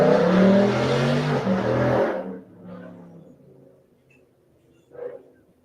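A Dodge Hellcat's 6.3 engine rumbles loud and close for about two seconds, then cuts away, leaving near quiet with a couple of faint, brief sounds.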